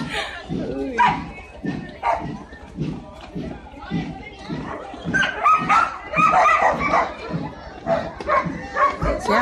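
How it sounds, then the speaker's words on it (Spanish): A dog barks repeatedly in quick rhythmic bursts during a festive parade-style gathering, with excited yips and whimpers, mixed with crowd noise and people talking. "La perra."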